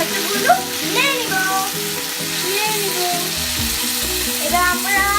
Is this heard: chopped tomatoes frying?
yes